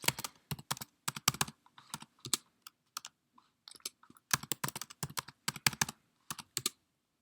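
Password typed on a computer keyboard at a Raspberry Pi terminal, heard as bursts of quick, crisp key clicks up close, grouped into short runs with pauses between them and no talking.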